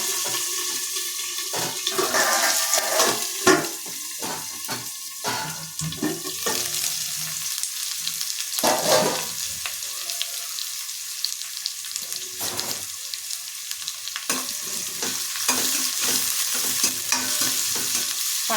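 Onions and curry leaves fry in a pan for a Telangana taro root pulusu, a continuous sizzle broken by repeated scraping stir strokes, close and fairly quiet with no voices.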